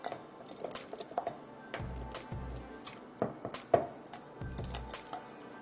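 Eggs and milk are whisked in a bowl with a utensil, giving irregular clinks and scrapes against the dish with a few louder knocks, close and fairly quiet.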